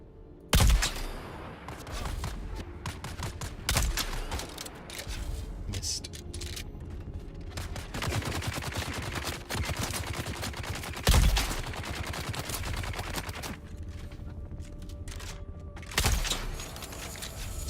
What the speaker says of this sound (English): So when you shoot someone with a shield, it takes a bit of time to penetrate.